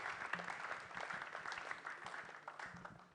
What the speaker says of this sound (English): let's make our applause loud for Nana Ekuya Ankoma Asare